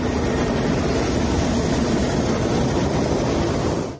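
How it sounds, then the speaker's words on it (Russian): Mi-8 helicopter hovering over a set point in the Sea of Okhotsk during a rescue exercise, a loud, steady, close rotor and engine roar filling the whole clip. "Ми-8 зависал над заданной точкой в районе Охотского."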